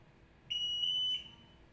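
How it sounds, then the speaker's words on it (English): An MSA ALTAIR 5X portable gas detector sounding its acoustic alarm during the self-test: a single shrill electronic tone lasting under a second, with a brief break in the middle, alone against quiet room noise. "The ALTAIR 5X is now performing a self-test, and acoustic and vibration alarms, as well as LED signals, will be tested"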